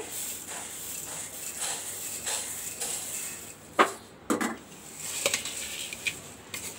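Puffed rice for jhal muri, the Kolkata street food, is tossed and mixed in a bowl, giving soft rustling scrapes and a few sharper clinks against the bowl, close and moderately quiet, with no talk.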